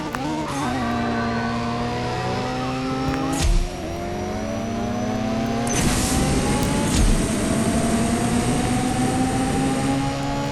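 A wide-body FRS car in a racing video game drones with a steady engine tone that climbs through gear changes, punctuated by a couple of sharp shift or impact clicks, continuous and upfront with no talk.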